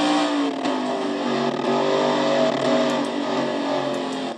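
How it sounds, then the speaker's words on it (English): A loud, steady race car engine roars and revs continuously, with a few faint sharp backfire pops near the end; no voices. "I actually heard the motor on Ann Batson's car backfire a little bit"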